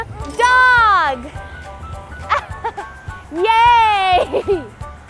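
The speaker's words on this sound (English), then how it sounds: "Dog!" A dog barks in two drawn-out, yelping bursts, loud and close, with a softer yip between them. No one speaks over it.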